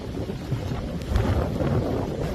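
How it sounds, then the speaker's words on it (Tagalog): Strong wind buffeting the microphone with a low, rumbling roar that swells and gusts, no voices. "Daming hangin."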